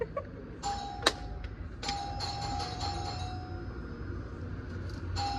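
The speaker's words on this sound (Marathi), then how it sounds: "वाजवली बेल जाऊन" A doorbell chimes several times in a row, bright electronic tones repeating close by against a quiet room background.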